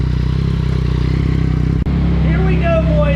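A 2022 Yamaha MT-09 Tracer GT three-cylinder engine with an aftermarket exhaust idles loudly on a dyno, a steady rumbling drone that cuts out for an instant, then returns with rising whirring tones as it revs slightly.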